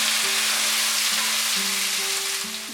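Cut potato, pointed gourd, ridge gourd and drumstick pieces sizzle in hot oil over medium heat, a steady broadband hiss under faint low tonal hum, no talk.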